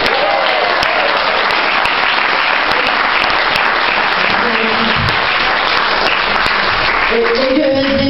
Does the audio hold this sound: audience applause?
yes